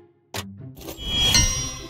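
A sharp metallic clang is followed by a bright, shimmering ding that rings out and fades, a sword-crafting chime in the Roblox game High Realms.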